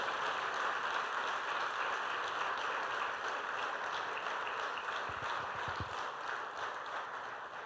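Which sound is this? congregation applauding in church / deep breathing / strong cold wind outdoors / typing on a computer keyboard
congregation applauding in church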